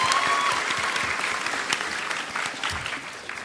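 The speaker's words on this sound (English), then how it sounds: "let's give a little round of applause for Edward Kenway." A convention panel crowd at San Diego Comic-Con claps steadily for a few seconds, dense and lively, tapering slightly toward the end.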